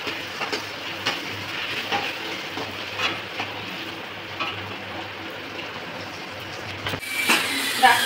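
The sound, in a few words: fish roe and bitter gourd frying and stirred in a pan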